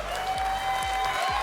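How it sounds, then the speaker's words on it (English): Audience applause for a cosplayer at a cosplay contest and grand championship stage, a steady dense wash of clapping lasting the whole moment at moderate loudness, with a sustained tone and low thumps underneath. "Give them an excellent round of applause because putting on those wings is so hard."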